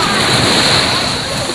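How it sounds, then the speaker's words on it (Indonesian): Strong sea waves splash and slosh around a boat in a loud, continuous rush of churning water close by. "Ombaknya deras."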